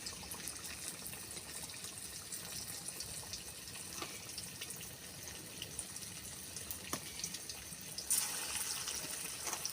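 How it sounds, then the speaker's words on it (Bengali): Chicken kebabs fry in hot oil, giving a steady, dense hiss and crackle close by with faint pops, and the sizzle swells slightly louder near the end. "তেল গরম হয়ে গেছে, এবার এগুলো এরম করে"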